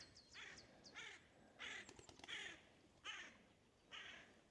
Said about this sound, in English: Birds are back.